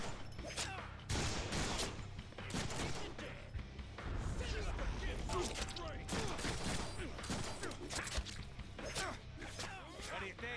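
Rapid gunfire during gun kata combat in a Deadpool video game, dense bursts of shots with thwacks and whooshes running almost continuously and loud throughout, with voices mixed in among the action.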